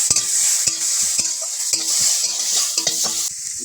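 Chopped onion and green chilli frying in a pan, a loud bright sizzle close by, broken by sharp clicks and knocks of a spatula stirring against the pan at irregular intervals, no talking.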